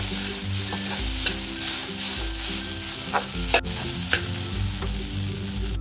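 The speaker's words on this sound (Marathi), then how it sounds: "अगदी 2-3 मिनिटात परतून हा उपमा तयार होतो" Leftover idli upma is stir-fried in a pan, with a continuous frying sizzle and steady scraping stir strokes. A couple of sharper clicks of the spoon come near the end, and steady background hum runs throughout.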